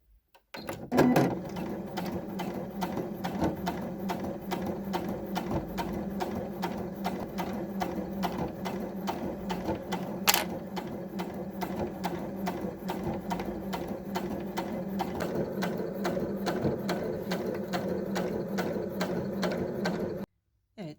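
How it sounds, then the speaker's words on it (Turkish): A domestic sewing machine stitches the lining and zipper of a purse, a fast, steady mechanical clatter of needle strokes running almost without pause for about twenty seconds, close and loud, with one short bright squeak midway. "makineyle dikeceğim"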